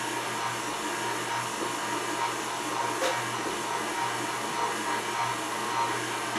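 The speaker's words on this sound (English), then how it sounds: "This is on the slowest speed that the mixer goes." A stand mixer kneads Italian bread dough on its slowest speed, giving a steady, moderately loud motor whir with a faint rhythmic hum that stays unchanged throughout and has no voices over it.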